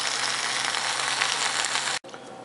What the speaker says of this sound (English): It's cooking good too. You can hear it sizzling.